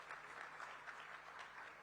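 An audience claps for Bharatkool Chapter 2, a Gujarat Media Club event, in a faint, steady patter of many hands that sounds distant and continues throughout.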